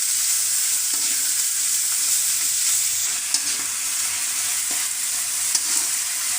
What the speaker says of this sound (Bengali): এই তো শুটকিগুলো কষিয়ে নিলাম খুব ভালো করে একটু।